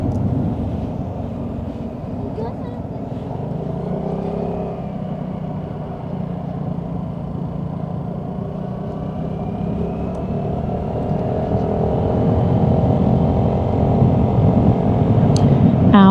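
Vespa scooter on the move, heard from the rider's helmet: a continuous low engine hum and road rumble with steady wind noise, the engine note rising and growing louder toward the end.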